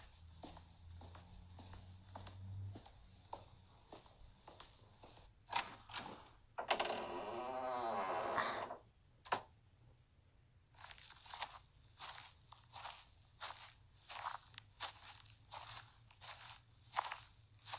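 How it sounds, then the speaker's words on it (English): Footsteps in a horror video game, a steady series of crunchy close steps that pause midway for a swelling mechanical whoosh, then resume in an even rhythm, fairly quiet overall. "Footsteps."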